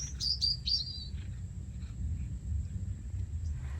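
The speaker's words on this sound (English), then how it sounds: "The birds are singing for us" A few quick bird chirps and a short trill at the start in an autumn garden, then faint distant calls over a low outdoor rumble of wind.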